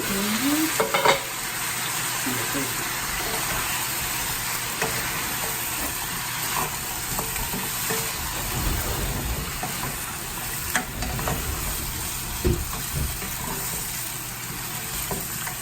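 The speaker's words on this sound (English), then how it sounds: "So I will cook another 5 minutes in strong fire" Cola-braised chicken drumsticks with a little sugar fry over a strong flame, giving a continuous close sizzle broken by occasional spatula scrapes and stirring clacks, with no one speaking.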